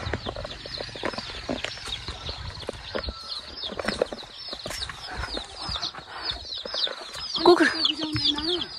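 Chickens clucking close by on a Nepali farm, with repeated short clucks and calls, someone speaking softly at times, and a louder squawk near the end.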